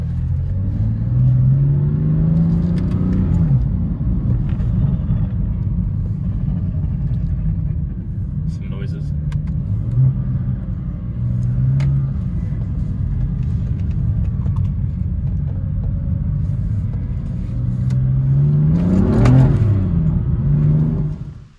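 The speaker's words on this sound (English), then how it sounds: "So here's a video of me driving the car for the first time on the road" A BMW F82 M4 race car drives on a public street, its engine rumbling steadily with a few rising revs as it accelerates, loud and close for about twenty seconds with no talk.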